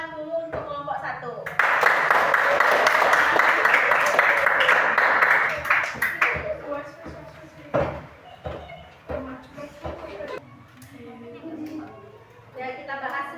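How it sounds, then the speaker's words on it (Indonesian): An elementary school class claps for group 1 during a lesson on ecosystems and food webs. A dense, loud burst of applause runs for about five seconds, then tapers into scattered claps, knocks and a teacher talking. "Nah, kita kasih tepuk tangan dulu untuk kelompok 1."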